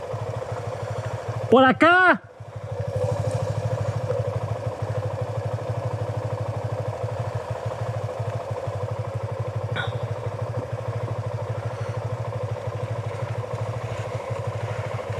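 A motorcycle engine runs steadily at close range, shifted into second gear while riding off-road, with a low droning hum throughout; a brief shout and a short sharp squeal break in near the start.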